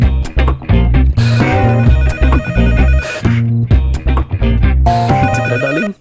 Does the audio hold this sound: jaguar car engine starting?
no